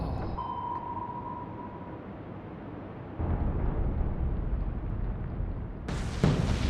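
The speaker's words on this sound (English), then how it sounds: "that torpedo hits" A torpedo from a U-boat strikes the heavy cruiser Cumberland in the Atlantic Fleet naval game, a deep rumbling boom swelling midway and followed by a sharper crack near the end, over low ambient rumble.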